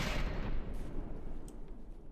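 A ship's gun fires a shell in the game From the Depths, a heavy booming blast that rolls off into a fading rumble, loud and alone without speech.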